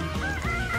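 Guinea fowl or turkeys on a farm give a short, nasal honking call, close and fairly loud, lasting under a second with no talk.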